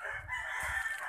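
A rooster crowing outdoors on a family farm where chickens are kept for breeding and egg laying: a single sustained cock-a-doodle-doo call, fairly faint and somewhat distant, heard alone.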